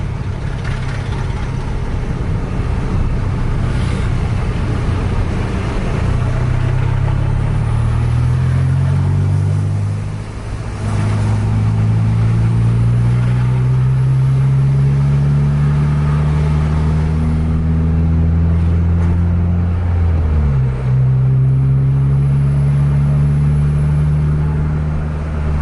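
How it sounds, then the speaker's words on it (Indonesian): Heavy evening traffic at Simpang Komodor Langsa, with the rising and falling drone of engines including trucks passing close by from the opposite direction, one after another, loud and continuous with no talking. "Lalu lintas juga cukup padat malam ini"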